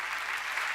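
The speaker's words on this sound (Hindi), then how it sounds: "जोरदार तालियां इस बात पे बजाएं" Brief steady burst of audience clapping at a spiritual discourse gathering in Bhopal, a dense even wash of hands with no voices over it.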